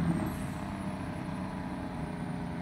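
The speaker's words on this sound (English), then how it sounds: "See what my Jake break sounds like?" A heavy truck in American Truck Simulator runs with its Jake brake engaged, giving a low, steady rumbling drone that stays fairly quiet and even, with a faint high whine near the start.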